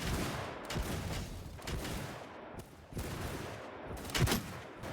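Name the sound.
gunfire in a war video game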